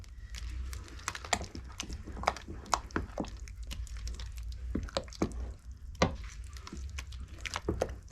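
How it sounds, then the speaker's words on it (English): Four eggs stirred briskly in a bowl with a utensil, giving soft wet squishing and irregular tapping clicks in a quick steady rhythm, close and fairly quiet. "we're gonna stir it really well before we put in the corn muffin mix"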